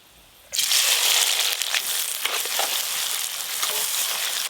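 Whole garam masala, a bay leaf and chopped onion dropped into hot mustard oil, bursting into a loud, sudden, continuous sizzle that stays strong to the end.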